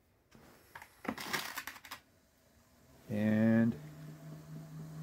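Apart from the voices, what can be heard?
electric motor and transmission turning in Volvo EV conversion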